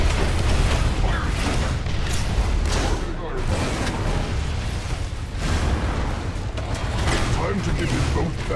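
Weapon fire and explosions rage through a canal battle in the Transformers: Revenge of the Fallen video game, dense repeated booms and bursts over a constant heavy rumble, with voices shouting amid the din.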